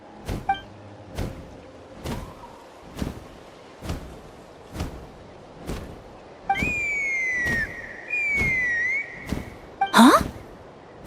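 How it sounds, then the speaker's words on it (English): A whistle call in the Genshin Impact video game, used to summon a Kukasaur, rings out as a bright rising and falling tone lasting about three seconds, among recurring thumps and game effects, ending in a sharp burst. "That sounded like a whistle."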